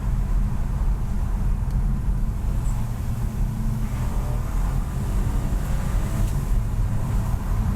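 A 2022 Ford Puma MHEV small SUV with a dual-clutch gearbox in manual mode, its engine giving a steady low thrum under road and wind rumble while driving, continuous and fairly loud with no talk.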